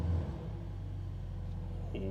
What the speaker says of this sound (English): It's the first time for me starting up the S63 E-Performance.